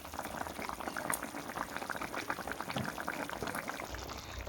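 Vegetables and pre-fried fish simmer in water in a pot for a Bengali cauliflower fish curry, giving a continuous soft bubbling with small pops, close and fairly quiet.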